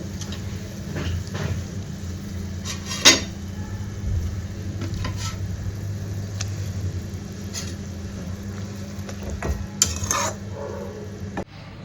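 Eggs go into a hot pan and are stirred as the cooking finishes, giving a continuous low sizzle with scattered scraping clinks and a few sharper knocks, close and steady.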